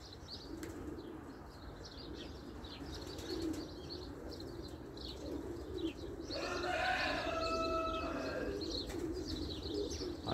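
Homing pigeons circle overhead with a soft, steady whir of wings, joined by faint cooing and chirping, and a brief burst of brighter calls partway through, outdoors with no talking.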